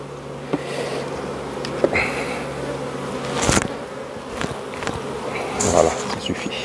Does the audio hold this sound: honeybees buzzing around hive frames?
yes